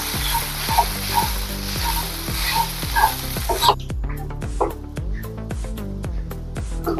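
Thick soaked poha being stirred into a sizzling masala stuffing in a pan, a loud hiss of frying at first that drops away, leaving scraping stir strokes and soft clatter over a steady low hum.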